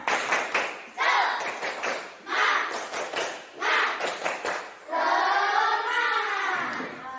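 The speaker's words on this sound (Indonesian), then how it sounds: "Iya, tepuk semangat." A school class performs a rhythmic spirit clap, bursts of patterned hand claps in short groups with children's voices chanting along, ending in a sustained sung or shouted vocal phrase.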